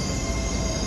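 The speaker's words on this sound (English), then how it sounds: "Big train here." A big train passes in London as a dense, steady rumble and roar filling a brief moment, loud and close with no gaps.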